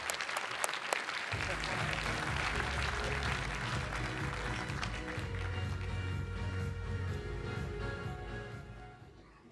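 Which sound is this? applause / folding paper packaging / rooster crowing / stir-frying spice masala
applause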